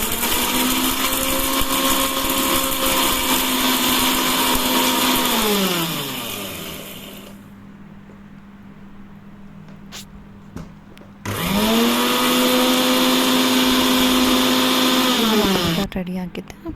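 An electric mixer grinder whirs loudly as it grinds roasted spices and tamarind into powder, spinning down after several seconds, pausing with a few small clicks, then roaring back up to full speed before cutting off.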